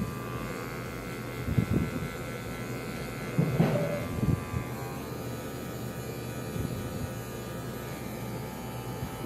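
An electric hair clipper with a number 1 guard cutting hair in a barbershop fade, a steady close buzz and hum with brief louder bursts as it passes through hair.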